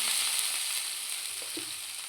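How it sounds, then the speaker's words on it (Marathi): A steady, loud hiss of water sprinkled on a hot oiled dosa griddle, crackling continuously and easing slightly over the couple of seconds. "तवा आपला गरम झाला आहे आपल्याला त्यात थोडंसं तेल टाकायचं आहे व त्याच्यावर थोडासा पाण्याचा शिंतोडा मारायचा आहे"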